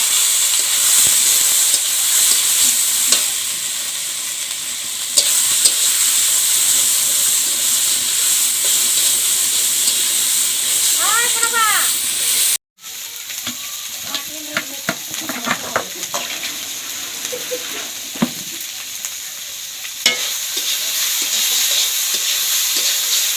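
Spices frying in a pan for a small fish curry, a steady loud sizzle and hiss throughout with occasional scraping stirs and clinks, a brief break midway before the frying resumes.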